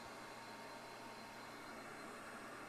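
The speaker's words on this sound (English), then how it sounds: "I have my vac pump going" A vacuum pump running at a bench during PS5 RAM chip rework with a heat wand, a faint steady hiss and hum that holds even and unbroken, with no talking.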